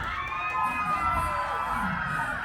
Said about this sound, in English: Capacity crowd going nuts for the Def Leppard here